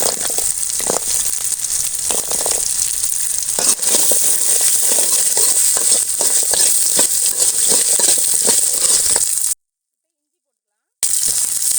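Dried chillies, green chillies and shallots fry in a pan for a chutney, a steady bright sizzle with scattered crackles running throughout, cutting out briefly near the end.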